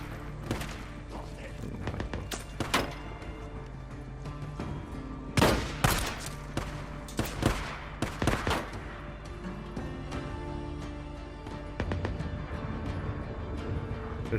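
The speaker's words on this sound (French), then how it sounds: "ça tire à des armes automatiques" Bursts of automatic weapons fire in the video game Days Gone, with sharp volleys and rapid rattles spread through the stretch over a steady background, loud in places and without talk.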